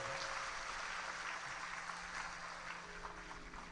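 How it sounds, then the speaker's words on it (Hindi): Crowd applause at a live Shiv Mahapuran religious discourse, a dense sustained clapping that fills the whole stretch at steady loudness with no talk over it. "जोरदार ताली बजाओ।"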